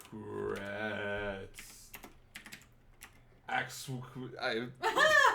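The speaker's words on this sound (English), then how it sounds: "I'm gonna type in Jill Secrets." Computer keyboard typing, soft clicks that sit mostly under speech, with a short pause and then bursts of keystrokes near the end while people talk.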